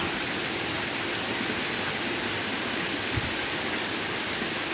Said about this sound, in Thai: ดูฝนตกขนาดนี้ ค่ะทุกคน นี่นะคะบรรยากาศนะคะ อันนี้หลังบ้านนะคะทุกคน